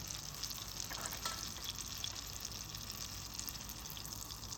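Pepper olive oil heats in a pan with a steady, quiet, hissing sizzle, close and continuous, with no talking over it.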